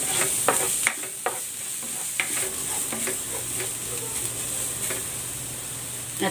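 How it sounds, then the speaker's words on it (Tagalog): Chopped garlic sautés in a hot pan while cooking stuffed squid, giving a steady close sizzle broken by sharp clicks and scrapes of a spatula stirring, with no talking. "Magigisa na ako ng bawang."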